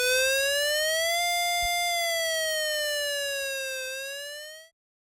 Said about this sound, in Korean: 재난경보,